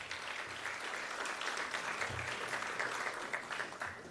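Sustained audience applause at a school district State of the District event, a steady dense clapping from a crowd that holds at an even level throughout.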